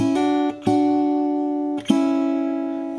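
Acoustic guitar chords, palm muted and hybrid picked, struck a few times, each left to ring out and slowly fade, with clear attacks and no voices.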